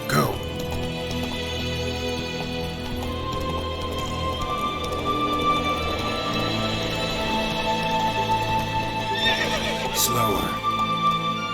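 Roach, Geralt's horse in The Witcher 3, runs with steady clip-clop hoofbeats and occasional whinnies, close and continuous against game music, with a voice speaking over it.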